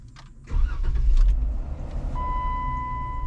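A Jeep Wrangler with a throttle body and pedal sensor issue starts off on a test drive, its engine rising abruptly into a steady close rumble, then settling with a faint whine over it.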